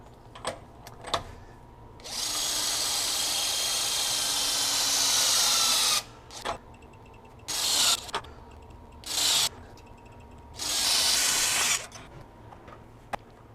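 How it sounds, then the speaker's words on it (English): RIDGID 18V subcompact impact driver running in reverse to break a tightened bolt free, sounding in several bursts: one long rattling hammering run, then shorter spurts with brief pauses and light clicks between. "how tight can we tighten a fastener and then break it free with this little subcompact impact driver"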